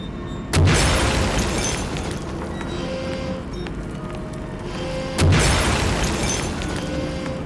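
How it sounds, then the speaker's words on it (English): Two loud, deep booms from explosions in the horror video game Amnesia: A Machine for Pigs, about five seconds apart, each trailing into a low rumbling roar with no voice over it. "this sounds like an explosion right there"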